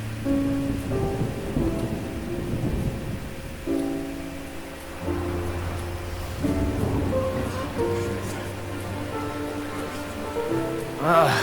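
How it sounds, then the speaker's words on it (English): Steady, dense rainfall in Genshin Impact with low rumbling swells, heard alongside soft tonal music and no talking. "It's raining!"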